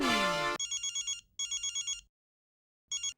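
A mobile phone rings with an incoming call: after a brief tonal burst, bright electronic ringtone beeps arrive in quick pulsing groups, separated by short silences, close and clear with no talk over them.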